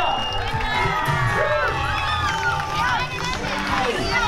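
Crowd at a children's running event cheering and shouting with high excited voices and whoops, lively and continuous, mixed with chatter.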